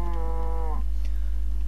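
A low, drawn-out moo from a cow in Minecraft, synthetic and game-like, lasts under a second, then cuts off, leaving a steady low hum.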